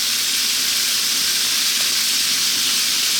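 Pork with fresh ginger and garlic sizzles hard in a very hot stir-fry pan, a loud, continuous bright hiss with no talking over it.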